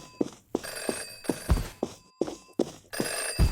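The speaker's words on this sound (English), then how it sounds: "There's a phone ringing, Brett." A telephone rings in a video game, a bright electronic bell repeating in steady bursts with short gaps between them, loud and close, with no voices over it.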